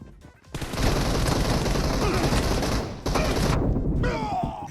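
Sustained rapid gunfire in a PUBG Mobile one-versus-one match, loud and dense for several seconds with a brief dip before resuming, while a faint voice comes through near the end.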